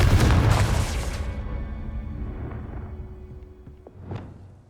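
A Confringo spell blasts in Hogwarts Legacy: a heavy booming explosion with crackling debris that slowly fades, ringing tones lingering, then a smaller burst near the end.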